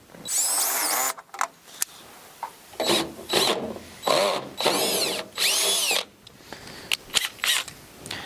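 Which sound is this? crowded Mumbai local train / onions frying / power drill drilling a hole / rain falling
power drill drilling a hole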